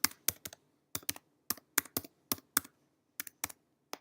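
Typing on a computer keyboard to enter an email and password, a close series of crisp key clicks in short bursts separated by brief pauses, with no talk.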